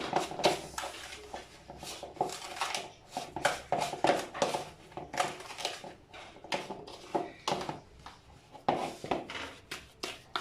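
A spoon working cake batter and sugar in a bowl scrapes and knocks in a quick, uneven rhythm, a repeated series of close, soft strokes against the bowl's sides.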